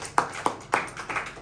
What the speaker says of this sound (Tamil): கைத்தட்டி ஆண்டவரை மகிமைப்படுத்தலாமா?